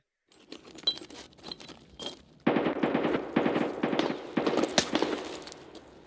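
Rapid bursts of automatic gunfire in the video game Escape From Tarkov crackle in quick rattling volleys, growing louder and denser partway through, with no talking.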